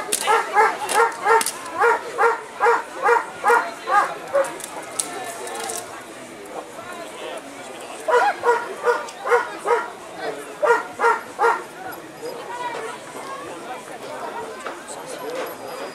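A defence dog barks in rhythmic bursts of loud, regular barks during a demonstration at the Battice agricultural fair, with a pause between volleys and crowd chatter and voices in the background.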